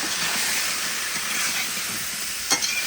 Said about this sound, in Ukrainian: Нарізану полотицями і обсмажуємо ще цибульку до золотого кольору.